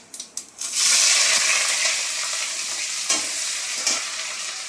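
Onion and green chili frying in hot oil in a pan, a steady loud sizzle with a few stirring scrapes near the start and occasional clinks, no voices.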